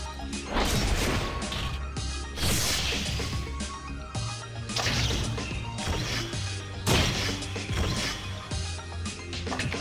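Heavy crashing impacts from enemy smash attacks in the video game Mabinogi hit repeatedly over dense, loud game music and effects.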